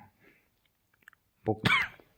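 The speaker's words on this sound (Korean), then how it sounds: "기침이 이렇게 낫질 않네요" A single cough comes after near silence, short and close, with a bit of throat sound just before it.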